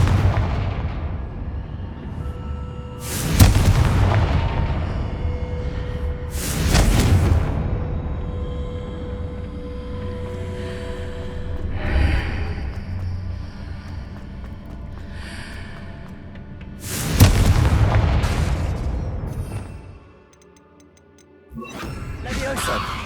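Confringo fire-blast spells in Hogwarts Legacy, several sharp booming explosions spaced a few seconds apart, each with a rumbling tail, loud and close amid game ambience, with a brief quiet gap near the end.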